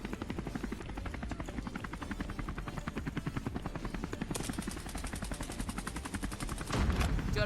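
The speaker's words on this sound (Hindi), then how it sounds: "तभी यहाँ पर मेरे को आता है हेलीकॉप्टर का साउंड।" Helicopter in the mobile battle game Scarfall 2.0, set in Mumbai, drones steadily with a rapid rotor pulse under bursts of gunfire, growing louder toward the end.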